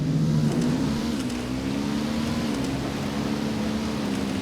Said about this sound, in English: I'm hearing engine noise.